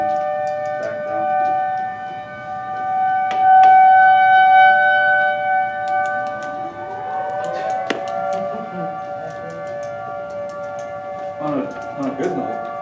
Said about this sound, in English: not when the siren's blaring and back down